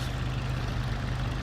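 A steady low engine idle hums from an airship in a flight simulation game, a continuous heavy drone with no break, fairly quiet and alone.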